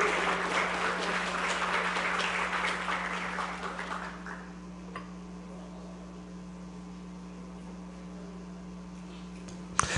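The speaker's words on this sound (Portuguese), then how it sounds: "eu solicito uma salva de palmas para os senhores, para a Feira de Santana e pelos seus 186 anos." Audience applause at a formal civic session in the Brazilian city of Feira de Santana, celebrating its 186th anniversary of political emancipation: dense clapping for about four seconds, then fading out to a quiet room hum with a faint click at the end.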